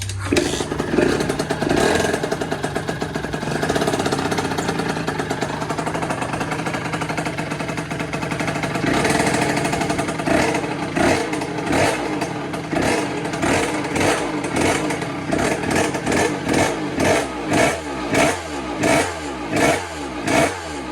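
A motorcycle engine that will not hold its idle runs roughly, surging and sagging unevenly, then breaks into loud sputtering, pulsing bursts toward the end.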